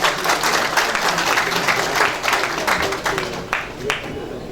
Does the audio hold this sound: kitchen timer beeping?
no